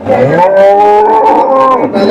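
An HF (Holstein Friesian) cow at a cattle market gives one long, loud, close moo lasting about two seconds, with little else audible around it.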